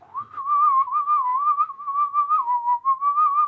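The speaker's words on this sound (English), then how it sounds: "Is someone whistling in the background?" A lone person whistles a steady, wavering melody in the background, one continuous clear tone with small pitch bends and brief breaths, heard alone.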